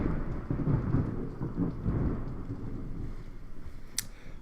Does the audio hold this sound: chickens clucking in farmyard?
no